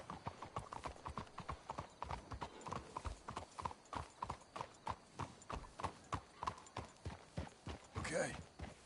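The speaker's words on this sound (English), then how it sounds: "Let's hitch the horses up ahead." Horses walk along in Red Dead Redemption 2, their hooves clip-clopping in a steady, even rhythm close by, with a brief whinny near the end and voices talking over the hoofbeats.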